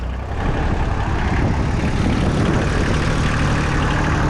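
A Kubota L2201G small diesel tractor engine chugs steadily at close range while reversing, a continuous low rumble with a rough, rattling texture that holds even throughout.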